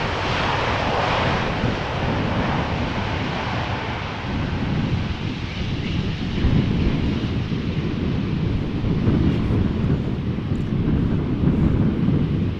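A Delta Airlines airliner lands in gusty crosswind at Amsterdam Schiphol, a continuous broad roar of jet engines mixed with heavy wind buffeting on the microphone, swelling slightly in the later seconds.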